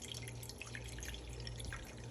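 Water pouring steadily into a large, deep metal pan for a cheesecake water bath, a continuous close splashing stream with no talk.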